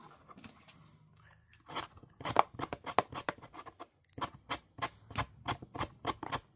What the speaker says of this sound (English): So I like to sand off the washi tape.